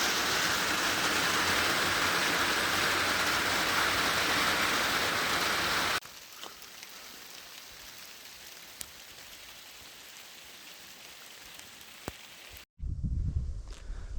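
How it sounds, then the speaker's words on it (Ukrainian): Heavy rain pours steadily beside a lake in Sweden, a loud dense hiss that drops to a softer patter midway, then cuts to a brief low rumble near the end. "Ось такий дощ пішов."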